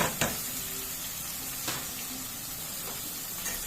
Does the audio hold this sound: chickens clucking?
no